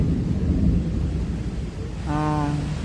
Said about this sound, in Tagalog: narinig niyo yung kulog?